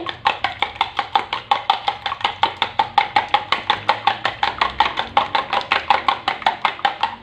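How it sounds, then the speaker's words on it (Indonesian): Eggs are whisked in a bowl for pancake batter, a fast, even train of sharp ticking strokes repeating roughly four to five times a second, close and alone without talk. "Lalu telur kita kocok terlebih dahulu."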